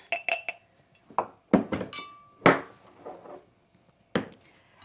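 Several hard, dry clinks and taps of dried sourdough starter pieces dropped into a glass jar, scattered irregularly with short pauses between, close and fairly loud.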